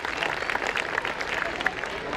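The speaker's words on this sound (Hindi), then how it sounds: "तो चलिए इन प्यारे सितारों के लिए एक बार दिल खोलकर जोरदार तालियां हो जाएं।" Dense audience applause for young pre-nursery performers at a school annual function, a continuous wash of many clapping hands with a few sharper claps and faint crowd voices underneath.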